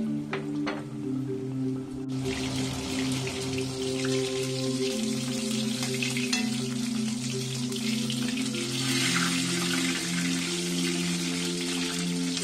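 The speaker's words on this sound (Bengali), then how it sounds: "এগুলো এরকম বন্ধ করে একটু সাবধানে ভাজতে হবে।" Pumpkin flowers stuffed with prawns frying in oil over medium heat, a dense, rain-like crackle that starts suddenly and then holds steady and close, with a low droning hum underneath.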